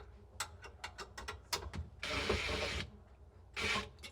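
Screws being tightened on a Bosch induction cooktop, a quick series of close ratcheting clicks followed by two short bursts of driver whirring, quiet and alone.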